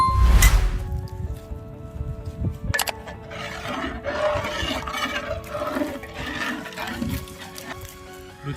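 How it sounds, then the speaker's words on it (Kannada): Water pours into a fish curry masala for fish sambar, a loud splash at first, then a bubbling, gurgling churn that carries on steadily at moderate volume. "ಹುಳಿಗೆ ಮೀನುಳಿಗೆ ಎಷ್ಟು ಬೇಕೋ ಅಷ್ಟು ನೀರು ಹಾಕೋತಾ ಇದ್ದೀವಿ"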